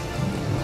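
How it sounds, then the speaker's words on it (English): A steady wash of rain with a low thunder rumble from a rain scroll in Divinity: Original Sin, dense and continuous through a short stretch with no voices. "He has a rain scroll."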